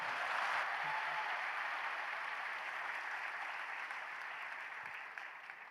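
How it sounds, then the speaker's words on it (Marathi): Audience at an interview with Tukaram Mundhe applauds, a steady, dense wash of clapping from a crowd that slowly thins toward the end, with no talking. "टाळ्या एकदा जोरात."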